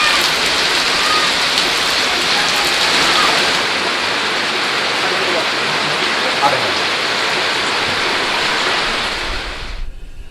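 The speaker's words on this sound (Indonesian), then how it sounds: "Tapi ngomong-ngomong ini hujan, udah belum berhenti." Heavy rain pours down in a dense, loud, continuous hiss for about ten seconds, then stops abruptly near the end.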